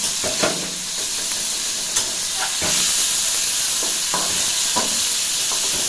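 Prawns sizzle steadily in hot oil in a pan, with several sharp scraping clinks as they are stirred and lifted out.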